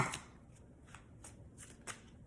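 Cards are shuffled close up in a few quick riffling bursts separated by short pauses, soft and crisp.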